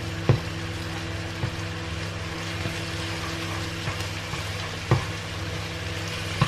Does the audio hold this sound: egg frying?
yes